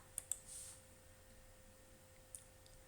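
Two quick computer mouse clicks close together, then a single click a couple of seconds later, faint and close against a quiet steady hum.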